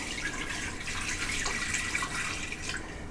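Water streams steadily into a pressure cooker container, making a close, continuous splashing trickle with no break over the few seconds.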